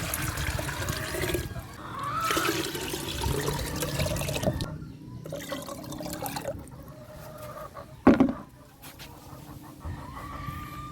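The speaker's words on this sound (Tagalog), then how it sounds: "So yan ay pupunuin na natin ito ng tubig." Water pours into a container on a chicken farm while chickens cluck nearby. The splashing is steady and moderate, and there is a sharp knock partway through.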